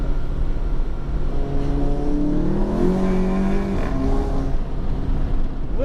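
VW MK7 GTI with a Cobb Stage 3 tune and catless downpipe, engine droning loud and close, then revving up through a downshift with rising tones and a brief blip before settling.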